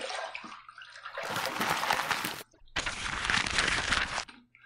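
Tap water runs in two strong bursts for rinsing during a wet shave with a Rapira razor blade, close and fairly loud, separated by a brief pause.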